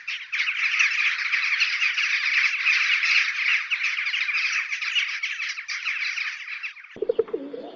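Crows caw in a dense, continuous chorus of harsh calls for about seven seconds, fairly loud and alone, before a different short sound ends it.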